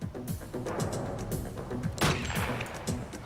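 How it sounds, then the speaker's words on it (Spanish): Several sharp gunshots ring out during a bank robbery reenactment in a crime documentary, the bursts irregular and fairly close, with a short rapid volley near the middle and a dense layer of noise beneath. "El guardia hizo todo lo posible para detener al asesino, pero recibió varios disparos."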